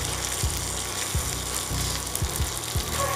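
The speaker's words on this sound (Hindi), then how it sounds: "उस साइड से हम इसको सेकेंगे। मीडियम आंच पे आप सेकिए। ऊपर भी हम थोड़ा बटर लगाएंगे।" A semolina-topped Indian pizza base roasts in butter in a pan over medium heat, giving a steady close sizzle with a few soft low knocks from the pan.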